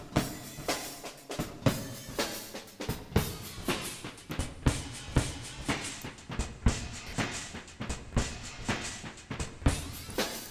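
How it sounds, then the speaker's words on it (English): A primitive digital pitch-shifter plugin processes a rhythmic musical loop, producing repeated sharp hits and tones with a steady, pulsing beat throughout and no voice. "this is one of those really primitive pitch shifters, and it sounds a little like this"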